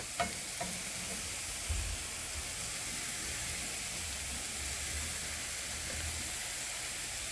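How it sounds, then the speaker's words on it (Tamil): Grated raw banana sizzles as it is stirred into sautéed onions in a hot pan for Tamil-style valaikkai puttu, a steady frying hiss with a few scraping stirs near the start. "வாழைக்காய் துருவி வச்சுருந்தோம்ல, அதை இப்போ சேர்த்துக்கலாம்."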